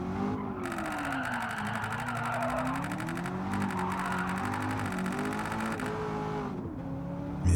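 A Corvette slides sideways through a long drift in a racing video game, with a steady engine drone whose pitch wavers up and down as the car swings, and a continuous tire hiss beneath it, with no talking over it.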